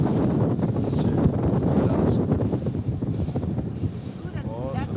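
A boat under way on the ocean in Mossel Bay during a white shark search, its steady engine drone mixed with heavy wind rush across the microphone and splashing water, continuous and close.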